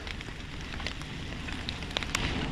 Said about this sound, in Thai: ฝนเริ่มลงเม็ดอีกแล้ว